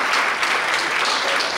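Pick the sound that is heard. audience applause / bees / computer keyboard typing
audience applause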